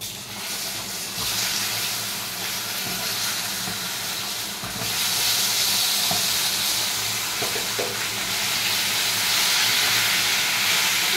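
Chunks of yam dropped into hot oil already holding a few dried red chillies, frying with a steady close sizzle and hiss that swells louder partway through, with faint stirring clinks.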